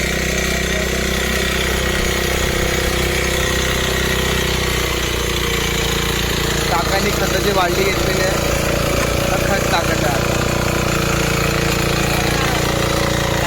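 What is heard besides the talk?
tractor engine running in rice field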